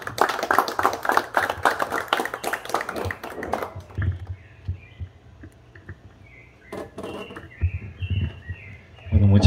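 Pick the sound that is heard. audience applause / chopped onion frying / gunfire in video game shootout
audience applause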